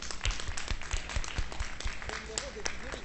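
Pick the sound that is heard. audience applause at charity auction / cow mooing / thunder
audience applause at charity auction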